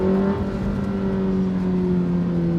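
A 2026 Toyota GR86 with four exhaust tips accelerates hard, its engine revving in a steady, throaty drone that stays loud and close for the whole stretch, with no talking over it.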